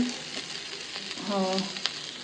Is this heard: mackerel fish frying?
yes